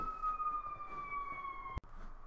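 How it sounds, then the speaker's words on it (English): An emergency vehicle siren passes outside an open window, heard indoors as a faint, steady wailing tone that slowly drops in pitch as the vehicle moves away, ending with a sharp click. "quick apologies if anyone heard the siren going outside"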